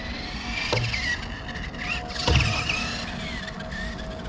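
A small Subotec 1/24 scale RC jeep runs over ramps with a whirring electric motor whine that rises and falls, plus a couple of brief clattering bumps, heard close up without any voices.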